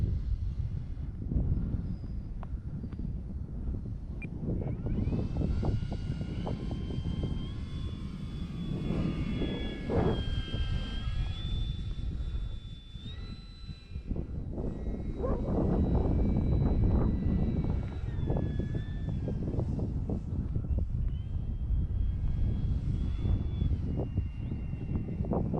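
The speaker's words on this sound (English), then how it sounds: "this plane loves wind" E-flite Draco RC airplane flying in gusty wind: its motor whines steadily, rising and falling in pitch as it passes, over constant rushing wind noise on the microphone. No one speaks.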